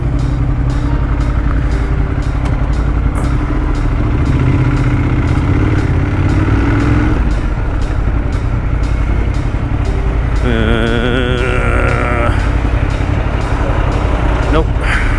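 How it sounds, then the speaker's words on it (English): Continuous city traffic rumbles around an electric Livewire motorcycle riding near Central Park, with steady engine and road noise throughout. A horn or siren-like tone sounds briefly near the end. "Just traffic everywhere."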